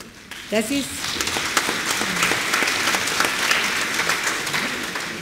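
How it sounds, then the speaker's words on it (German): Congregation clapping hands during a German Catholic church service, a dense sustained applause filling the space, with a few brief voices and whoops near the start. "Sie dürfen immer für Jesus Hände klatschen."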